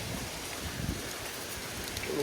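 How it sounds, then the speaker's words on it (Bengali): Heavy rain pouring steadily during the aftermath of Cyclone Remal in Badarkhali, a dense even wash of drops that swells slightly louder near the end. "প্রচুর বৃষ্টি"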